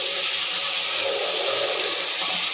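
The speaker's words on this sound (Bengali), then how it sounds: "আবার একটু জল দিলাম" Water poured into a pot of rohu fish and prawn curry, a steady close splashing rush that runs unbroken for a couple of seconds, with no voices over it.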